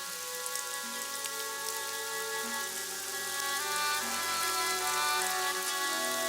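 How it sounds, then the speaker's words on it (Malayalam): Steady, even rain hiss falls over a city, soft and continuous throughout, with tonal background music underneath. "നഗരം മഴയിലായിരുന്നു."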